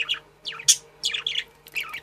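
Several male pet budgerigars chirping and warbling in a cage indoors, bursts of bright twittering calls coming in quick clusters with short gaps, fairly close and alone without talk.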